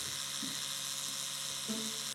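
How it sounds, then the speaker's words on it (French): Electric toothbrush running, a steady high-pitched buzzing hum that holds constant throughout, with a few faint knocks underneath and a brief dip near the end. "Maintenant que j'ai allumé la brosse à dents de loin, il l'a vu, il l'a entendu"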